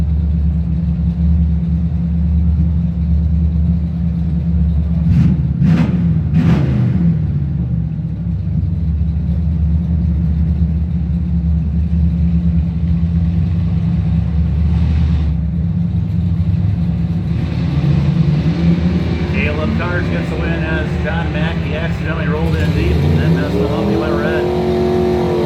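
An 84 Chevy Blazer and an 84 Monte Carlo SS run a drag race, engines rumbling steadily throughout with a loud revving surge near the start and another rising acceleration late, under crowd and track noise.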